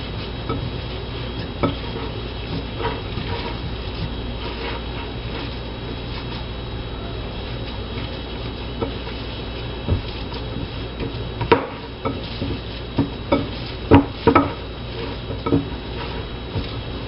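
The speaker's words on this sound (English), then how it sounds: "I'm going to take some of them and mix them in so that they will be throughout the meatloaf." Cooked mushrooms are mixed into a meatloaf mixture in a bowl, with quiet squishing and stirring under a low steady background hum and a few louder clinks of utensil against the bowl near the end.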